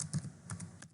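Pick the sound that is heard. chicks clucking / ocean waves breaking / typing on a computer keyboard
typing on a computer keyboard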